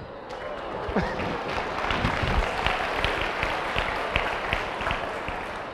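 An audience claps steadily, a dense wash of applause that carries on throughout at fairly close range.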